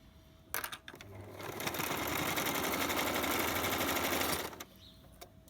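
A sewing machine stitches a washable cotton face mask, running in one steady fast whirring burst of about four seconds, with soft handling clicks before and after.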